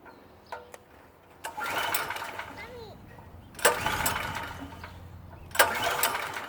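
A PowerSmart PS44 3000W portable generator gets three pull-start attempts, each a sharp rip of the recoil cord followed by a brief sputter that dies away, with people talking between pulls.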